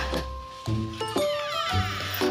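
Cats meow near a backyard house area, several distinct meows in short bursts about every half second, close and fairly loud, with no speech.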